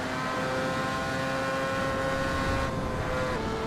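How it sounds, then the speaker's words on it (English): A race car engine in a racing video game drones at steady high revs with a slightly uneven, stuttering tone, loud and continuous with a brief pitch dip near the end and no talking. "the engine's a bit stuttery"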